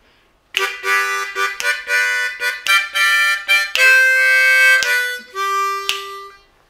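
Harmonica playing a lick, a run of sustained reedy notes with short breaks, ending on two longer held tones, close and alone.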